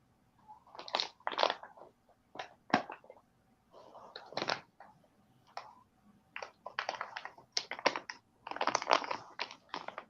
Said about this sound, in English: Opened up a pack of backwoods.